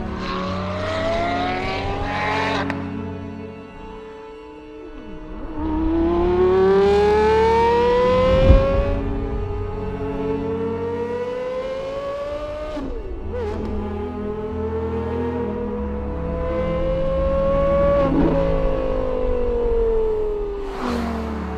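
Porsche Carrera GT supercar engine driving, the rising wail of repeated hard accelerations through the gears with brief dips at each shift, loud and close throughout.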